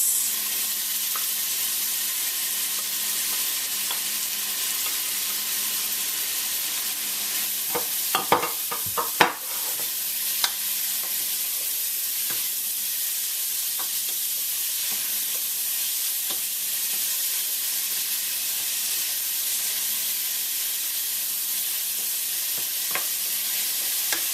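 Grated yellow squash and carrots sizzle in a pan for an Indian stuffing, a steady close hiss of frying throughout, with a few brief stirring clatters partway through.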